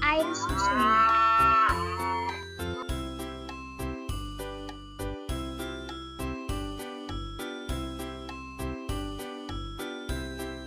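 A cow raised for meat and milk gives one long, loud moo. A bright, tinkling, jingly music track then carries on steadily.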